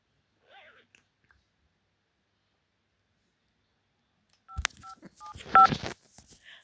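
A phone number is dialed on a telephone, giving a short run of distinct touch-tone beeps with a few faint clicks; before that the room is mostly quiet, with a small stray sound near the start.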